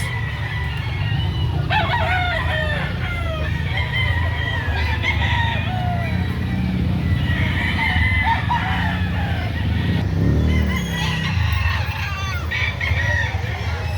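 Many chickens and roosters at a poultry market in Lipa City, Batangas clucking and crowing together in a busy, noisy crowd, with a steady low rumble of activity and faint voices underneath.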